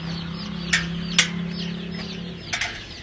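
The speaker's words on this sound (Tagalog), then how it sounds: "mga sisiw din ito yung mga alaga ko" Chicks and chickens at a farm resort: high chick peeps and chirps sound close by, with a few sharper clucks and a bit of wing rustle over a steady background hum.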